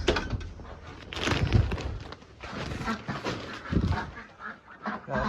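Farm ducks quack in a noisy close group, overlapping calls rising and falling with some honk-like notes mixed in during winter chores.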